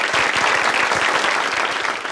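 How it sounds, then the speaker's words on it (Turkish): A studio audience claps for a guest on a Turkish talk show, with brisk, sharp individual claps close up in a steady, lively burst. "Nurhan'ıma bir alkış."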